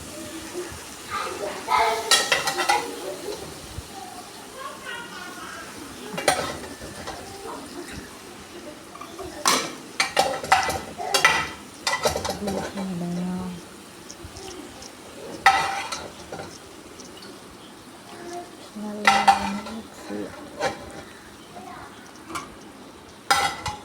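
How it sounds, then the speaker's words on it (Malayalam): Beef curry being mixed in a cooking pot, with intermittent scraping and clanking of a spoon against metal over a low sizzle, close and moderately loud. "നന്നായിട്ട് മിക്സ് ചെയ്യും ഇറച്ചി അതിലേക്ക് എല്ലാം കൂടി നന്നായിട്ട് മിക്സ് ചെയ്യും"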